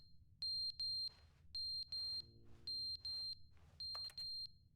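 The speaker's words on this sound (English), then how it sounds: "What is that alarm?" An alarm in The Stanley Parable: Ultra Deluxe video game sounds in repeated pairs of sharp, high electronic beeps, four double-beep bursts evenly spaced over a faint low hum, with no talking.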